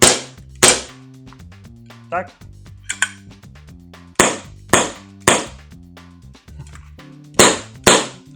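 Sharp snapping shots from a Beretta APX airsoft replica pistol, about eight irregular cracks with mechanical clicks, close and loud, with a brief spoken word in between.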